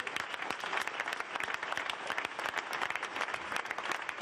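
Audience applause at a French political campaign meeting, brisk dense clapping from a crowd, steady and close, continuing without pause.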